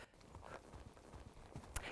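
Horse hooves in a posting trot, a quiet, even two-beat clip-clop repeating steadily at moderate distance.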